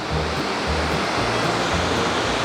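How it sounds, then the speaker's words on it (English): Woolshed Falls near Beechworth, Victoria, a waterfall on a creek, producing a steady full-band rushing roar, close and continuous, with faint low thumps pulsing underneath. "here we are, guys, Woolshed Falls near Beechworth in Victoria"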